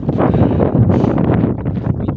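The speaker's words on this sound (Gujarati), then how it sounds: "ઠંડો ઠંડો પવન ચાલુ છે, તમને સંભળાતો હોય છે પવનનો અવાજ" Cool wind blows across a farm plot planted with bottle gourd, a steady close rushing and buffeting on the microphone that lasts the whole stretch with no talk.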